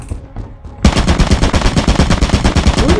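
Automated turret firing in the video game Lethal Company, a sudden loud burst of rapid machine-gun fire that starts after a short quiet lead-in and keeps hammering in a fast, even rhythm close by.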